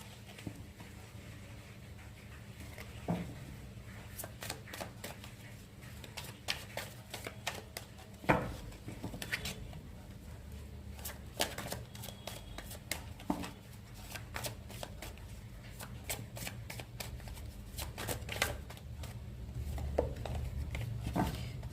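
Tarot cards are shuffled again and again, with quiet papery riffles and sharp crackling snaps and taps at an uneven pace, close by and alone.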